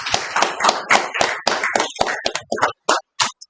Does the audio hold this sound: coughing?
no